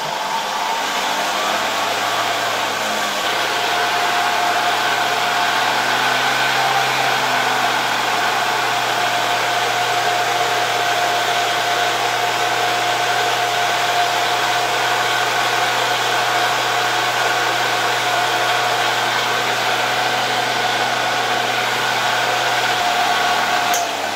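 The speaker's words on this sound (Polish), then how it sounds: "Teraz odkurzacz mogę podłączyć do regulatora napięcia." A Saturnas vacuum cleaner with new motor brushes runs through a voltage regulator set to about half scale, giving a steady, unbroken motor whine and airflow hiss that stays level and close throughout.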